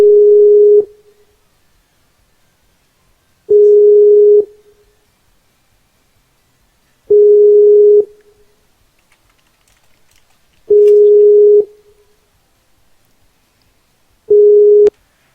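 An outgoing phone call rings out unanswered: five long, steady electronic tones, each about a second, separated by roughly three seconds of silence, loud and clean with no voices.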